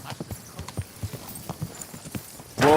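Horse hooves clip-clopping in the video game Kingdom Come: Deliverance II, a brisk, even run of distinct hoofbeats close by, ending as a horse whinnies loudly.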